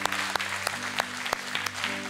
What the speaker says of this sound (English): let's give Pastor Caldwell a hand clap.